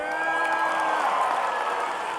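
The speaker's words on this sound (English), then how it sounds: "I want to hear all of you AOS people cheer." Crowd of graduates in the atmospheric and oceanic sciences group cheering and whooping at a large UCLA college commencement ceremony, a steady, sustained roar of voices and applause filling the hall throughout.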